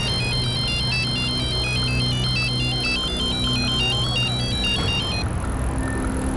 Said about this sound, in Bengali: তুমি মহেশকে ফোন করো